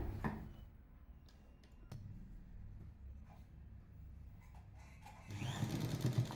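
A sewing machine stitches a folded hem on dhoti salwar pants, a faint steady whir broken by a few sharp clicks, growing louder near the end.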